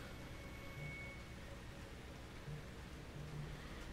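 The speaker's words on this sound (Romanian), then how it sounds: "Bro, plouă cu sânge." Steady rain falling in the horror video game Outlast 2, a blood rain scene, heard as a soft continuous hiss with faint low rumbles and a few brief low tones, quiet and even throughout with no talk.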